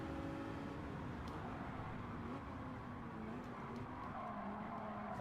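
A Lamborghini Huracan engine in Gran Turismo 7 roars steadily and loudly throughout, with a sustained drone whose pitch shifts slightly as the car is driven.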